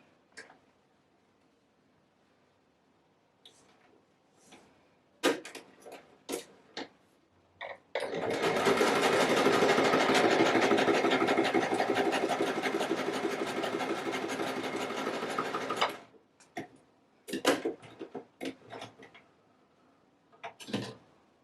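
An Empisal sewing machine stitches down a polo neck in one steady run of about eight seconds, rapid and close, with scattered clicks and handling taps from the fabric and machine before and after.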